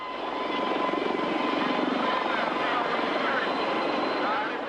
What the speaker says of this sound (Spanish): Ceausescu huyó en helicóptero.